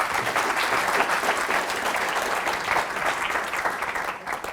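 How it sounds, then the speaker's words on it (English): A conference audience gives sustained, dense applause that holds steady and fairly loud throughout, with no talk over it. "Big applause"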